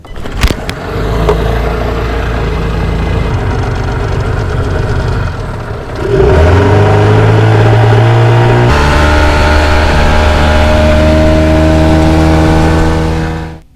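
A fishing boat motor runs loud and close, starting with a sharp clank, droning steadily, then surging to a higher pitch before settling into a strong humming whine until it cuts off.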